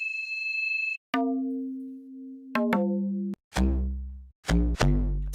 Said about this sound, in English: Sick bass.